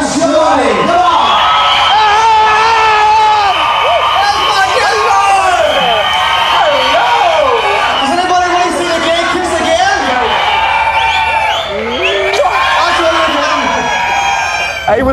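A crowd of thousands in front of a main stage at a live show cheers, whoops and yells in a loud, continuous roar for the whole stretch, with excited voices rising and falling throughout.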